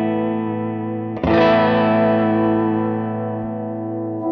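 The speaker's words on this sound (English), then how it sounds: "So I'm going to put the flutter high." An electric guitar chord played through a Line 6 HX Stomp Retro Reel tape effect with flutter set high rings out over a sustained bed, a fresh strike arriving about a second in and then decaying with a wavering, warbling shimmer, no talk.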